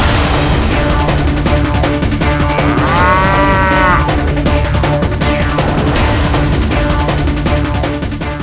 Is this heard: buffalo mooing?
yes